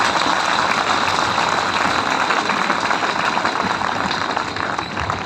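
A dense, steady wash of applause from a crowd of trainees at a Delhi Police constable training centre event, close and continuous before easing slightly at the end.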